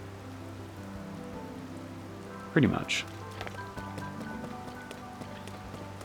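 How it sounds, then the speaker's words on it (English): Rain patters steadily in The Legend of Zelda: Tears of the Kingdom at a dim, overcast hour, a soft continuous wash beneath a low hum, interrupted by a brief burst of noise and a short spoken remark. "I guess just because it's raining."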